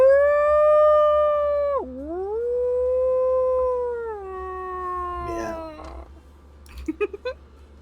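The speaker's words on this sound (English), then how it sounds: "The sound of wolves howling begin to echo through the forest tree line." Wolves howl through a forest tree line, a long sustained howl that dips and rises, with other voices joining and fading, followed by a few short sharp sounds near the end, all ringing out with no talk.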